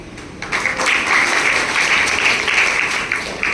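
An audience at a girls' school ceremony bursts into applause, a steady wash of clapping rising after a half-second and sustaining loudly to the end, without speech.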